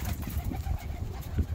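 Bursa tumbler pigeons coo up close, giving soft low repeated throaty calls in an uneven rhythm, with faint rustling from the loft.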